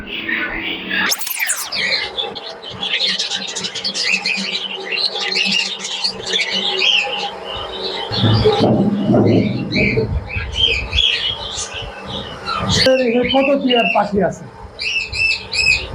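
Budgerigars, cockatiels, parrots and lovebirds chatter and squawk in a busy aviary, a dense layer of chirps and shrill calls running throughout, with people talking over the birds.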